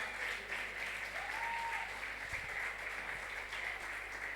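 A church congregation applauds in steady, continuous clapping that sounds slightly distant and fairly quiet, with a faint voice briefly heard over it.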